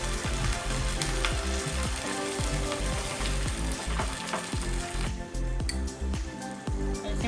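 Gobi Manchurian sauce with soy sauce and vinegar hissing in a hot pan, stirred with a run of rapid, repeated spatula scrapes and clacks over a continuous loud sizzle.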